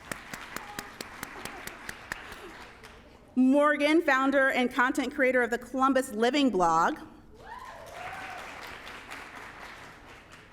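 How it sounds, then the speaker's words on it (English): Applause greets panelists at a community talk on influencers, starting as scattered light clapping, then an announcer speaks over it before a softer round of clapping returns. "Let's give Elisa a round of applause."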